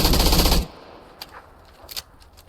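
A loud burst of rapid PUBG gunfire cuts off abruptly, followed by a few faint distant shots and clicks.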